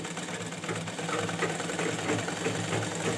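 A sewing machine stitches a diagonal pajama seam, running in a steady, even whir with faint rapid needle ticks throughout.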